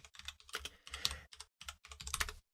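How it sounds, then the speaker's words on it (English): Fingers typing on a computer keyboard in quick bursts of clicking keystrokes separated by short pauses, close and fairly quiet with no voices. "why are you typing it?"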